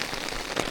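Heavy rain drumming on a tent during a storm while kayak camping on an abandoned Scottish island, a dense close hiss of drops with no letup.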